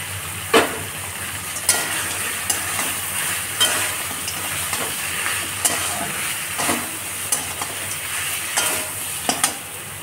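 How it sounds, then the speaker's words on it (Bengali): Fried crab is stirred in spices in a pan for a Bengali-style crab curry, with steady sizzling and repeated scrapes and clinks of the spatula against the pan. "এবারে দিয়ে দিচ্ছি ভাজা কাঁকড়া মাছটা।"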